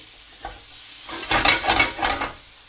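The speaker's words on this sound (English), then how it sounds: "Give them about a minute, constant stirring and frying." A loud burst of sizzling and scraping as noodles are tossed and stirred in a hot pan, rising after a brief clatter.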